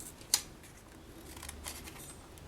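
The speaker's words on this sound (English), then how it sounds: "I'll just give a little scissor cut" Scissors make a single sharp close snip through patterned paper, followed by faint rustling in an otherwise quiet room.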